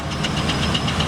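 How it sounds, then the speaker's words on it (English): A big Fowler steam road locomotive, a heavy haulage engine at a steam fair, runs close by with a loud, rhythmic chuffing beat over a steady mechanical rumble and hiss. "That engine, big Fowler road loco"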